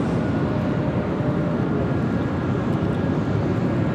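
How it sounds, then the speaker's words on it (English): An Airbus A321neo jet at LAX gives a steady, broad engine roar, dense and low, holding evenly throughout without breaks or voices. "This A321neo next departure."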